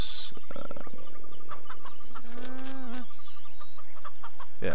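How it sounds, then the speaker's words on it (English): A herd of goat-like creatures in the video game CHKN gives off loud bleating, clucking calls that overlap one another, with rising and falling cries and scattered game effects. "There's that herd of goat things."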